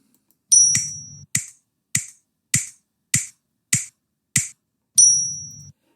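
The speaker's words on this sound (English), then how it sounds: "The Tala can be heard as a series of clicks." A steady series of sharp, evenly spaced clicks marking an Indian classical tala cycle, with two longer ringing ding-like tones at the start and end, no voices.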